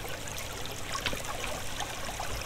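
Water flows in the block-building game Minetest with a steady, continuous trickling rush. It holds at an even level throughout, with no voices over it.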